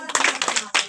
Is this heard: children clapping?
yes